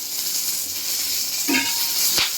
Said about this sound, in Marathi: तेल टाकल्यानंतर ना मिरची अशी उडते